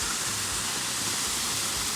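Steady, full-bodied rush of waterfall water flowing down a rock channel, constant and fairly close, with no pauses or voices.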